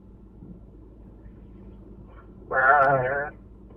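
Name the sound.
person imitating goat bleating on phone call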